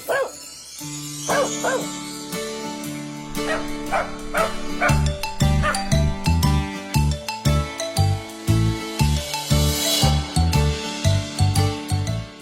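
A cartoon dog barks in a quick run of sharp, loud yips and woofs, repeated in bursts over a bouncy musical backing.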